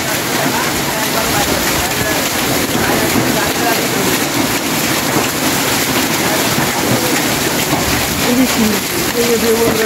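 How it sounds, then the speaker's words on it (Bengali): Heavy rain with large hailstones pounds steadily in Natore, Bangladesh, a dense continuous roar, with a faint voice briefly audible near the end. "শিল দেখেন, কত বড় বড় শিল"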